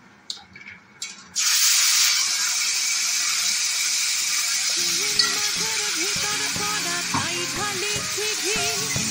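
Cumin, dried red chillies and bay leaves hit hot oil in a wok for a vegetarian banana-flower dish, starting a loud, steady sizzle after a few brief knocks, with scraping and stirring clatter through the later half.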